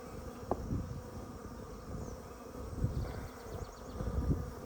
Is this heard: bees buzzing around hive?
yes